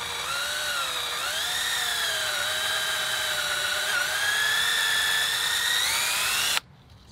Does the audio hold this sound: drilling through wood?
yes